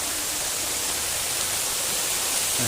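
A waterfall at a meditation centre in Thailand makes a steady, even rush of falling water, moderately loud and constant throughout, with no one speaking.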